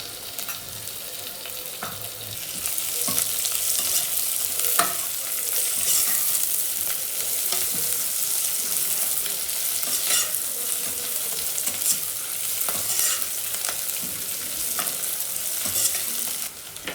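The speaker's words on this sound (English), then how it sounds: "Now add some little ghee, homemade ghee." Homemade ghee sizzles and crackles steadily in a pressure cooker for pulao while a spoon stirs, with scraping clicks of the utensil scattered through the frying hiss; the sound is close and continuous, with no talking.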